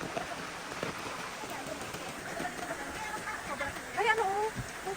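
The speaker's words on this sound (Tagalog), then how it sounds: "Umuulan." Light rain patters softly and steadily on surfaces outdoors, a faint continuous hiss with a voice briefly speaking near the end.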